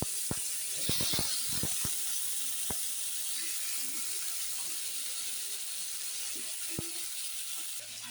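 Fish sizzling steadily in a hot frying pan, with a cluster of sharp utensil clicks and scrapes as the pieces are stirred, then a few scattered taps later over the continuous close frying hiss.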